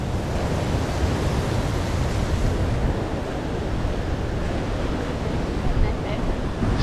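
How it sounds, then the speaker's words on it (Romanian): Large ocean waves surging onto a wild beach in Phuket, a dense, continuous roar of surf with wind buffeting the microphone, steady and loud throughout. "Aici valuri mari."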